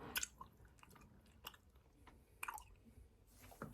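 Gum being chewed close up: soft, wet, irregular smacks and squishes with a few sharper clicks, quiet and steady over a low background, with no talking.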